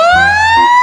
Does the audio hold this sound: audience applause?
no